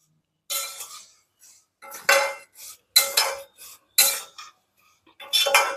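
Metal spoon scraping and clinking against a pan while stirring semiya vermicelli as it roasts, about six separate bursts of clatter with short quiet gaps, close and fairly crisp.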